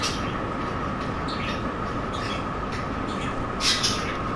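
A city transit train rolls on its rails with a steady, continuous rumble and broadband rail noise throughout, a few brief higher squeals or hisses near the end.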